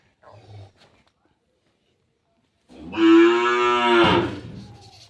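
A Deshal breed bull gives one long, deep, loud moo lasting about a second and a half, close by, after a brief soft sound and a pause.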